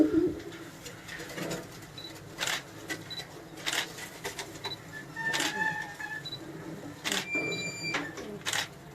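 Pigeons coo and rustle around a rooftop pigeon loft in Karachi, with scattered soft calls and clicks over several seconds, close and moderately loud, with no talking.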